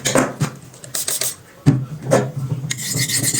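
A knife blade is rubbed back and forth on a coarse, aggressive sharpening stone, giving several uneven rasping strokes with brief pauses and one sharp knock, close and fairly loud.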